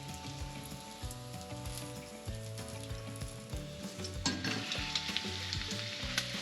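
Bacon sizzling on a griddle for a grilled cheese, a loud, continuous crackling fry with busy popping spatters, under a faint tonal background hum, with no voices.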